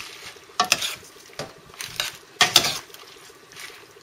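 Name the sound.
stirring spinach into cooked beans in a pan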